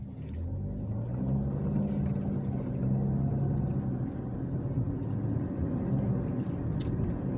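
Car driving through downtown Pendleton, Indiana, a steady low engine and road rumble from inside the vehicle, with a mild rise in revs partway through and no talking.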